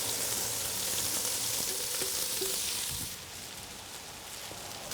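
Onions and carrots, already charred over charcoal, sizzle loudly in olive oil in a Dutch oven on a Kamado Joe Big Joe II, a steady broad hiss that drops to a softer frying crackle partway through.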